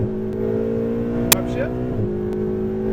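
A Ferrari 488 GTB engine holds a steady, loud drone from inside the car, with one sharp click near the middle as the gearbox upshifts and the pitch steps down afterward.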